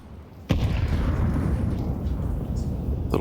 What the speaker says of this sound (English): Little cache of flashbangs.